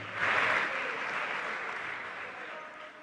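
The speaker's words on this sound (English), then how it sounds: "Can we have a round of applause for every single one of them?" An audience at a national science and maths quiz final breaks into a round of applause, a dense wash of clapping that swells quickly and then slowly fades.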